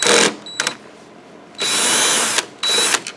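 Cordless power tool spinning out bolts on a Yard Machine lawn mower engine, several close, loud whirring bursts separated by brief pauses, with no one talking.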